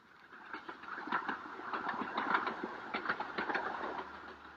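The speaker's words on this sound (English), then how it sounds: "the little 2-foot gauge railway which puffs and grunts its way up towards the Himalayan foothills." A small 2-foot narrow-gauge mountain railway train chugs and rumbles uphill at a moderate distance near Darjeeling in the Himalayan foothills, with rhythmic puffing beats over a low engine drone.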